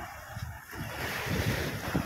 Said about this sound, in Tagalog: Basta pag high tide, malakas ang alon guys.